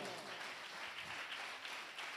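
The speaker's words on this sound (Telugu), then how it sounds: "కొడు చప్పట్లో." A church congregation claps during a sermon, dense continuous applause filling the whole short stretch at even loudness.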